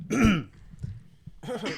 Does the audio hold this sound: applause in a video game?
no